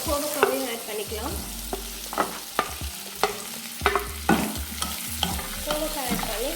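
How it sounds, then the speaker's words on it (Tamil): Ivy gourd and tomato are stirred and sautéed in a hot pan for a chutney: a soft continuous sizzle is broken by repeated sharp scrapes and clacks of a spoon against the pan, irregular but close and clear, with no talking. "கோவக்காய் ஆட் பண்ணி நல்லா வதக்கி விட்டுக்கலாம்."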